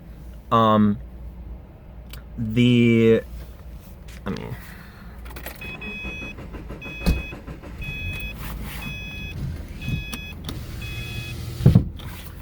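A car's power windows whir shut in two short motor runs, each rising in pitch, followed by a quiet cabin with a few faint repeated electronic tones and soft clicks.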